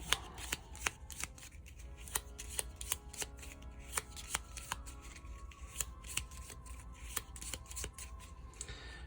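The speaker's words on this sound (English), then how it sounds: "So we have to add this to our discard pile, and then shuffle." A deck of cards from The Big Book of Madness board game is shuffled at close range, giving a series of quick, crisp riffling snaps at a steady pace, with no one talking.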